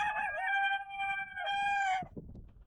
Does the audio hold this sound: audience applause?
no